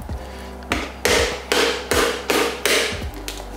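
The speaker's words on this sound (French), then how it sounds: "vous pouvez prendre le dos du couteau et le taper comme ceci autour" The back of a kitchen knife taps firmly around an item while preparing teriyaki chicken, giving six or seven sharp, evenly spaced knocks close by with no talking.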